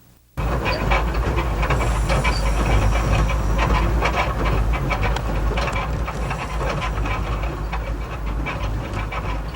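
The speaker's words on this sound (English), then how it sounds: "in the train from Bombay to Jaipur" Interior of a moving passenger train travelling from Bombay to Jaipur in India, a steady loud rumble and rattle of the carriage with hissing and clatter, continuous throughout with no voices.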